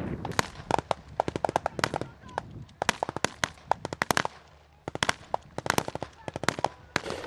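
Gunfire during the Sea Breeze 2017 multinational military landing exercise on Tendra island, rapid bursts of sharp cracks and pops in uneven clusters, mid-distance, with a faint background murmur between volleys.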